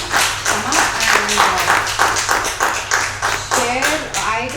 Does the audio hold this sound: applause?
yes